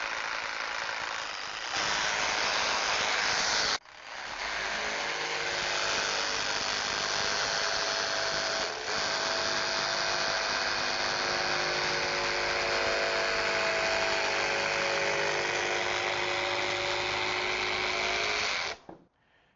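A TapeTech variable-speed electric insulation cutting tool runs with a steady, loud motor whine, briefly cutting out and restarting early on and then holding a constant drone for about fifteen seconds before stopping.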